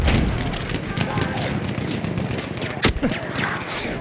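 Rapid gunfire from a World War I shooter game, Battlefield 1, crackles in dense bursts with sharp nearby shots and heavier booms, while a player talks over the battle.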